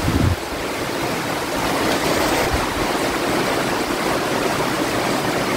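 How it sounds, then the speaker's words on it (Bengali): Heavy rain pours down outdoors under dark clouds with strong, cyclone-like wind, making a dense, continuous roar that stays loud and close throughout with no voices. "যে বৃষ্টির শব্দ, জমজমিয়ে বৃষ্টি হচ্ছে।"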